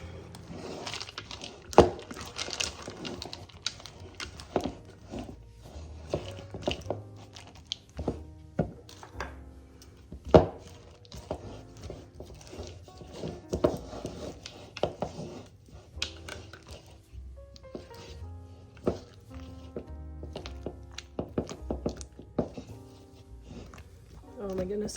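Candy pieces being smashed into smaller chunks for no-bake fall treats, an irregular series of dull thunks and taps with crinkling, mostly moderate with a few sharper hits, under a person talking.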